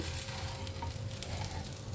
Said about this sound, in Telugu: భలే కాగుతున్నాయి అవి కూడా ఉల్లిపాయలు